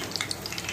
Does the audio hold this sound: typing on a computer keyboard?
no